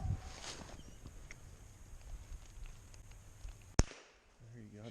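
A single sharp gunshot cracks out during a nighttime coon hunt, one brief loud report against quiet outdoor background with faint voices and movement.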